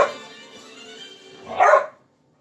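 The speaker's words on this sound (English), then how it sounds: "Dogs are barking at the cats now." Dogs bark loudly and close by at cats, one sharp bark at the start and a louder bark burst near the end, with a steady noisy background between.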